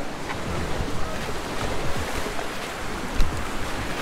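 Sea waves washing against the rocks below Xaqqa Cliffs in Malta, a continuous surging wash with light wind on the microphone and a few louder splashes.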